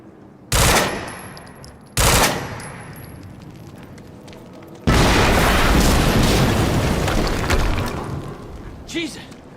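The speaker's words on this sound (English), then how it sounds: "HQ, we just heard an explosion near the harvesting perimeter." Several heavy explosions in the Quantum Break video game: two sharp loud blasts a second apart, then a longer roaring detonation with rumbling debris that slowly fades, followed by a short chirp near the end.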